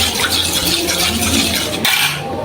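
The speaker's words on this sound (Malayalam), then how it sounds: "കട്ടയൊന്നും ഇല്ലാത്ത രീതിയിൽ നന്നായിട്ട് നമുക്കൊന്ന് മിക്സ് ചെയ്തെടുക്കാം." A spoon briskly mixes cornflour into cucumber juice to remove lumps, a steady, loud, close scraping and swirling that stops abruptly near the end.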